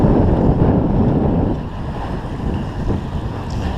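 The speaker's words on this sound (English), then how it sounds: "Not breaking waves, just rolling waves that are splashing us around a bit." Rolling, slightly choppy ocean waves slosh and splash against a moving boat, a steady broadband wash with wind buffeting the microphone throughout, louder at first and easing slightly.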